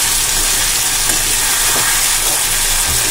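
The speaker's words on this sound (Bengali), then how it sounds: "জলটা দিয়ে দেব।" Loud, steady sizzle and hiss as water hits frying masala in a pan over a medium flame, a dense continuous roar of steam and spitting oil, close up with no talking.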